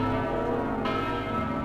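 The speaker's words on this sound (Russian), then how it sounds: "Вон на той башне бьют колокола." Church bells ring in a tower in Venice, their overlapping tones humming steadily and fairly strongly across the moment with no one speaking.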